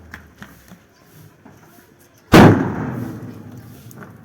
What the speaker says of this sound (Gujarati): અમારા હાર્દિકભાઈ પહેલો ધડાકો કરે છે.